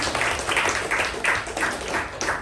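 A small group at a Toastmasters meeting gives a round of applause, close, fairly dense clapping that pulses unevenly for a couple of seconds.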